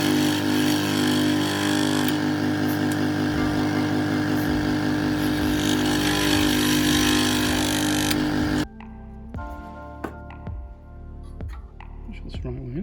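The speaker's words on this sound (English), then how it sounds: "I think what I might do is just cut this across here" A loud power tool grinds steadily through a 3D printed part for about eight seconds, its whine cutting off abruptly, followed by quieter clicks and handling noises.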